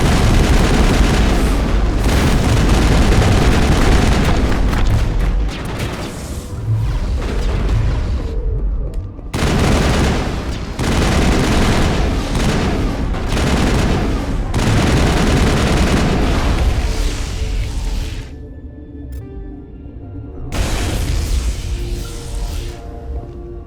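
Loud, sustained firefight in Mass Effect, heavy automatic gunfire and booming blasts hammering almost continuously, with brief lulls before the shooting resumes.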